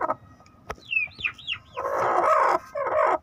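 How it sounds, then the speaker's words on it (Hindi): A broody hen kept on a rooftop in winter makes rising squawks and harsh, growling clucks as a hand approaches, loud and close, with a short pause before a final burst. "जब हम मुर्गी के पास हाथ करेंगे तो इस तरह की आवाज़ें निकालेगी।"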